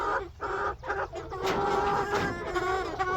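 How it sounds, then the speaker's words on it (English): Chickens cluck and call in a farmyard as they circle waiting for food to be thrown, a steady overlapping chorus of close, fairly loud clucks with bursts of busier calling. "I'm really enjoying the musical chickens as they walk around in circles waiting for the food to land."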